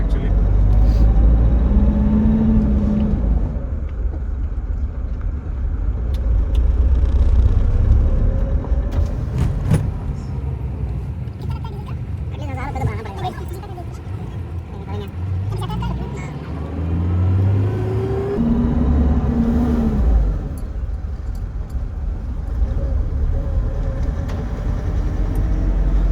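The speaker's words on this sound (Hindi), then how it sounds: "तो आराम से ही चलाएंगे गाड़ी को।" A Mitsubishi Pajero Sport drives along a Bangalore city road and state highway. Its low engine rumble and road noise hold steady, with passing vehicle hums rising and falling while someone talks inside.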